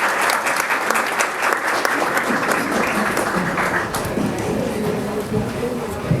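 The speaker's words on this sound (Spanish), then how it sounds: "darle un aplauso a todos los miembros de los acuerdos" A forum audience at an agricultural expo applauds in a sustained, dense round of clapping that stays fairly loud and even, with faint crowd murmur underneath as it begins to ease off.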